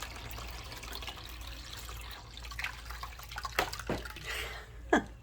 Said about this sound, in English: So we're going to just strain that through.